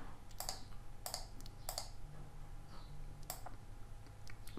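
Mouse clicks on a computer in design software: a handful of sharp, isolated clicks spaced about half a second to a second apart, close and fairly quiet over a steady low hum.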